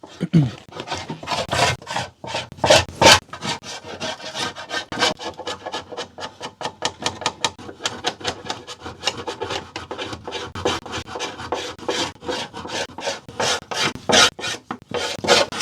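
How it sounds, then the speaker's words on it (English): A rough tool rasps along the edge of a pine board for a homemade baby stair gate, giving fast, rhythmic scraping strokes that repeat steadily and close up, with no talking. "Just rub it on the side so rub the edge. Like just rub down the side."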